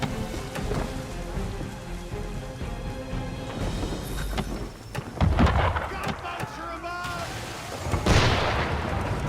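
Cannon fire from an enemy ship in Assassin's Creed III, heavy booms mixed with rain and storm noise, a few loud blasts spread over several seconds amid splashing, with a voice speaking briefly.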